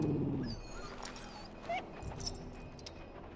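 A dog in Dragon Age: Origins gives a brief whimper at the very start, followed by faint yips and scattered small sounds over a quiet background.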